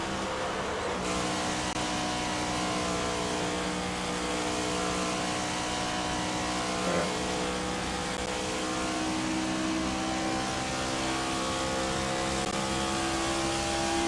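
Race truck engines in the NASCAR 25 video game drone at top speed in a steady, loud, sustained whine with a constant pitch, continuous and uninterrupted throughout.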